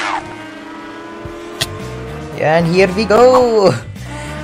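A motorbike speeds along in the mobile racing game Racing Moto, its engine holding a steady high drone, then revving and swooping in pitch as a voice speaks over it.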